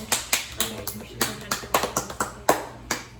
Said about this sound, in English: Oh, I see a lot of you guys clapping.